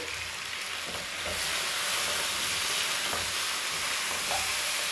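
Chicken pieces fry in a hot pan with whole cumin seeds, giving a loud, steady sizzle with occasional stirring scrapes throughout, and no talking.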